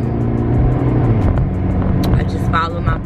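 A car cruises along a highway in Bridge City, its steady low road and engine rumble heard from inside the cabin while someone talks over it.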